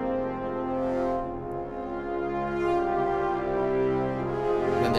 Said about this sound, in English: and then we bring in the bass trombones around bar 61.